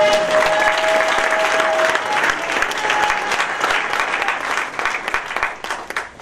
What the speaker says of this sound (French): Si nous pouvons un peu acclamer pour le Seigneur.